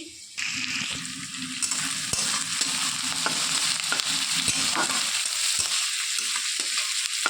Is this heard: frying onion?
yes